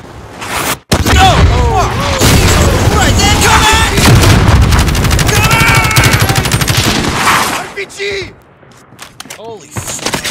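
Dense gunfire in Call of Duty: Modern Warfare Warzone, rapid automatic bursts and booms rolling almost continuously and loud, fading near the end, with players talking over the shooting.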